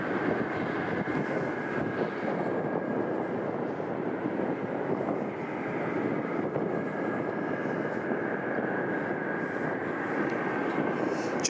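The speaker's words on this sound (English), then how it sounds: "this DC-6 to move into position" A Douglas DC-6 propliner taxis into position at Anchorage airport, a steady, distant engine drone with broad rumble that holds evenly throughout, with no voices.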